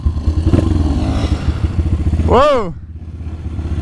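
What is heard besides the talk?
dirt bike engine riding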